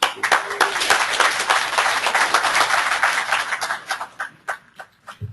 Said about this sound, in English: A round warm applause for Tessie to welcome her.